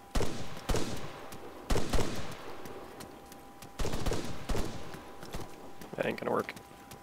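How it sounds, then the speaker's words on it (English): Gunfire in a military shooter video game set on Altis, several sharp loud bursts of shots in quick clusters, with a shouted voice near the end. "Taking fire! Enemy fire!"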